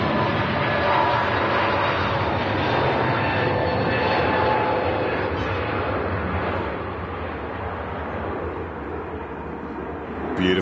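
An Air Transat jet taking off at Manchester Airport, a loud sustained engine roar that swells early then eases slightly toward the end, a dense broadband rumble alone without voices.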